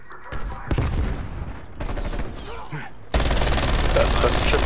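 Sniper rifle fire in the shooter Black Ops Cold War during a Hardpoint match: sharp, heavy shots with booming tails over continuous game noise, then a sustained loud burst of action near the end.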